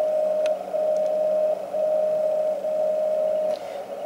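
A VLF time signal broadcast from Colorado, picked up with an RTL-SDR dongle, comes through as a steady mid-pitched tone that keys on and off in long pulses. It sits over a constant hiss of background noise with a few faint clicks.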